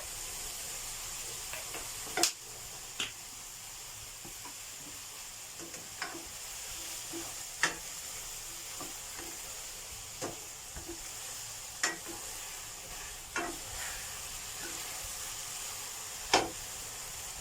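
Fresh shiitake mushrooms stir-fry in a pan with oyster sauce and soy sauce, giving a soft continuous sizzle broken by scattered sharp clacks of a utensil stirring against the pan.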